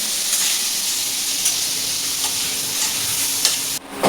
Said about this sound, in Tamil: வெங்காயத்தை போட்டாச்சு, அணைச்சிட்டு இருக்கோம்.